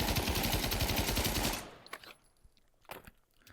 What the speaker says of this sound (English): Thompson, another World War II open bolt gun.